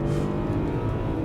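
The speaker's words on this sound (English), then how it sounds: "So let's do sport mode, get the car stationary, build up those revs." A 2022 Maserati Levante SUV engine, stationary in sport mode, revs hard and holds a loud, deep roar, steady and close throughout.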